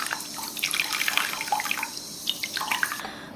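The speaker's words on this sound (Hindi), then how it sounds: "तो एक बार फिर से मैं इसी में से पानी निकाल के छान रही हूँ।" Water being poured off and strained from a vessel while making a mango recipe, giving a steady trickling, splashing flow with small drips, close by and alone.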